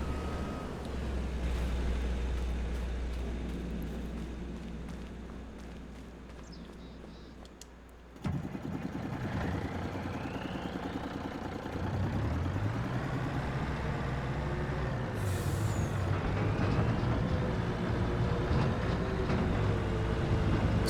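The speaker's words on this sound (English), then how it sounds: "Sounds like it has a Pete engine in it or Kenworth." A heavy diesel truck engine in a farming video game, set in Judith Plains, Montana, drones steadily and fairly loudly, its rumble shifting and rising in pitch as it revs through the gears.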